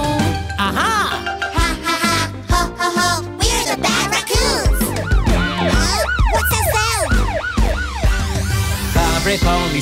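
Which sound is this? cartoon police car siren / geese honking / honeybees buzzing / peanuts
cartoon police car siren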